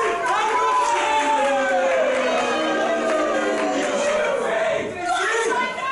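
A wrestling crowd at a 3-on-4 handicap match roars and cheers steadily throughout, a dense continuous wall of voices with commentators talking over it.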